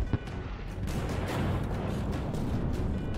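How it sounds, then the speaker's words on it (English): Explosions from a tokusatsu monster battle in an Ultraman Blazar episode, a continuous dense roar of blasts and booms with a sharp hit near the start, loud and sustained throughout. "those explosions"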